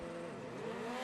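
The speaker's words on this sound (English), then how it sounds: "Anti-lag on. You can hear the revs already good to go, ready to race." Rallycross car at the World Rallycross round in Argentina sitting on the start line with anti-lag engaged, its engine held at steady high revs with a loud, continuous buzzing drone and no talk over it.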